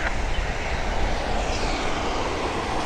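A Fly Alliance Cessna 560 Citation XL jet roars with a broad, steady rush at Toronto Pearson Airport, loud and continuous throughout.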